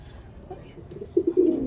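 A hungry pet bird coos and calls, dove-like, while it is hand-fed pellets; soft murmuring notes build to a few louder coos near the end, close by.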